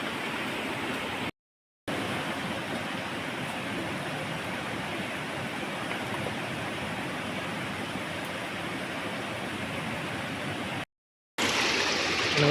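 Spring water flows steadily from a rock near Pinipisakan Falls, a constant close-up rushing trickle with brief silent gaps and a louder burst of splashing at the end.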